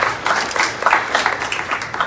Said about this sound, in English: she deserves a round of applause as well